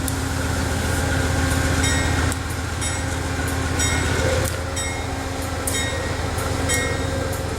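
A Shoreline East commuter train rumbles steadily nearby as it pulls into a station, with rolling wheel noise and faint squeals as it slows, the roar dipping slightly midway.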